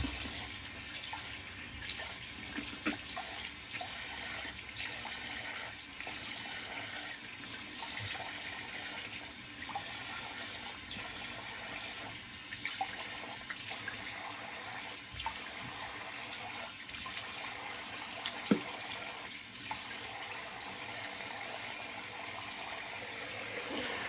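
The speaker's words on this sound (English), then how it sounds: "Now rinse with cold water." A bathroom tap runs cold water continuously at close range as a face is rinsed after a wet shave, with a steady gushing flow broken by soft irregular splashes and occasional small knocks.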